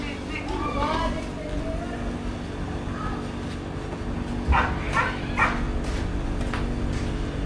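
A dog barks and yips a few times at moderate distance outside a house, short irregular bursts over a steady background hum, with people talking nearby.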